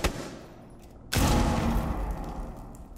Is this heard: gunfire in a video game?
yes